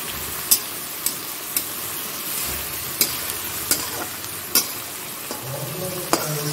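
Tomato frying in a pan, a continuous close hiss of sizzling punctuated by a regular series of sharp taps and scrapes from a spatula, with a faint low murmur near the end.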